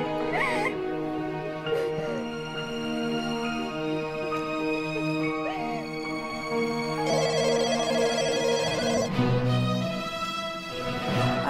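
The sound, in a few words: house telephone ringing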